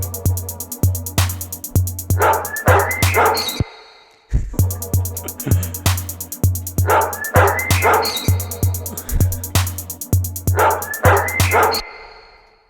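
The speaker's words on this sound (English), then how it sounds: "I'm just going to make the bark slightly more in time." A sampled dog bark loops inside a music track, sharp yips and barks repeating in a steady rhythm over a pulsing bass beat and high ticking percussion, loud and alone, briefly cutting out before the loop restarts.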